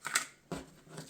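Blades chop through a cardboard hardware package box in two or three quick, close snips, each a short crisp crunch with pauses between.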